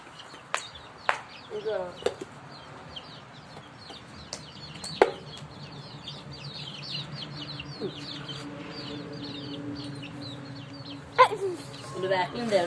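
Chicks clucking and peeping close by in short scattered bursts, with a few louder calls, while a person talks over them.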